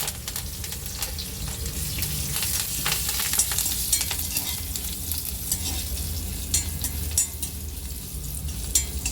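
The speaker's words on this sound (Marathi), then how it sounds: "आता कढीपत्ता पण टाकून देते." Curry leaves crackle and sizzle in hot oil with browned garlic, over a mustard seed, cumin and asafoetida tempering; a steady, close, dense frying hiss runs throughout with no voices.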